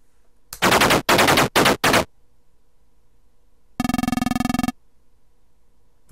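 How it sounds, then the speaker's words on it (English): A tank's coaxial machine gun in the video game Armoured Commander fires four loud, harsh, rapid bursts, then after a pause a single buzzing electronic rattle sounds, with silence between. "We got them with the machine gun."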